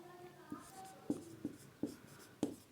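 A pen writes by hand on paper in a quiet room, giving soft scratching strokes with distinct taps roughly every half second, faint and close.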